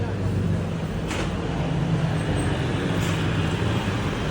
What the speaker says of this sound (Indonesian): Jadi bus kedua yang lewat hari ini